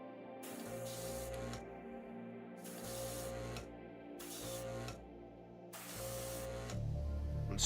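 An airbrush spraying thin, runny hobby paint in repeated short bursts of hissing, each lasting about a second, over a steady low hum, fairly quiet and close.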